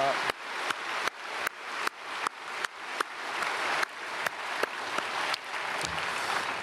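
A church congregation at a Sunday worship service applauds the choir: a steady, dense wash of clapping with regular sharp accents, moderately loud and sustained throughout.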